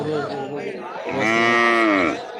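A cow lets out one long, loud, close moo at a cattle and calf market in Thiruvonam, alone without talk.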